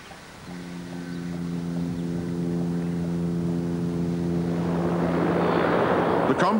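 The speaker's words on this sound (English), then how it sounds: "The combination of 32 propeller blades and 4 extremely powerful turboprop engines made the Bear one of the loudest aircraft in the history of aviation." Four turboprop engines of a Tu-95 Bear bomber drone steadily with strong propeller hum, swelling into a loud, broad roar as the aircraft draws nearer.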